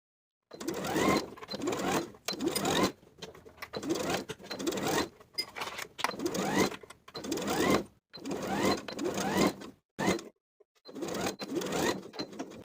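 Sewing machine stitching bobble trim onto the bottom edge of a back bodice piece runs in repeated bursts of rapid mechanical whirring, each stopping briefly before the next, close and fairly quiet, with no talk.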